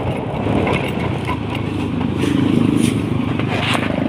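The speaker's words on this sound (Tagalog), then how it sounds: "Patakbo ng motor." A motorcycle rides along a provincial road, its engine a steady, close drone under rushing wind noise with some light rattling, holding at an even level throughout.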